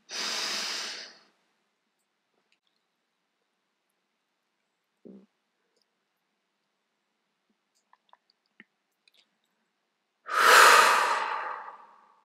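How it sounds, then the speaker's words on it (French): Slow, audible breaths drawn in and let out through the nose during a guided relaxation exercise. Two long airy breaths sit at the start and end of a quiet pause, with a few faint small noises between them. "Inspiration par le nez."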